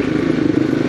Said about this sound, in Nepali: बिहान बिहान तार्दै लैजाँदैछौँ हामी बाइकलाई